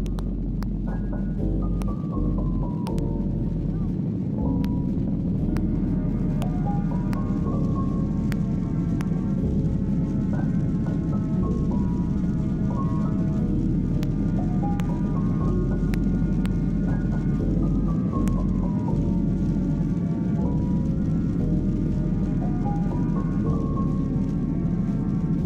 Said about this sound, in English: Here's a takeoff of the Delta 737-900ER from Salt Lake City.